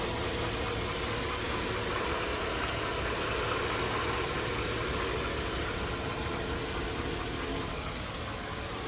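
A rusty 2002 Chevy Avalanche 1500 with a 5.3L V8 idles steadily, a continuous low engine rumble with a faint odd noise, heard close and even with no talking.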